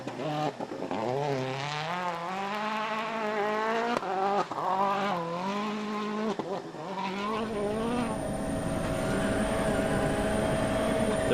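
A Citroen WRC rally car tears along a stage at the 2013 Monte Carlo Rally, its engine rising and dropping sharply through repeated gear changes before fading into a steadier, more distant drone, heard without any talk.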